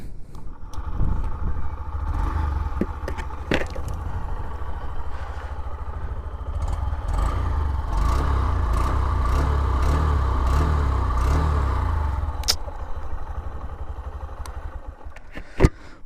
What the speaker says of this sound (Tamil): நான் உங்களுக்கு பைக் வந்து ஸ்டார்ட் பண்ணி காட்டுறேன்.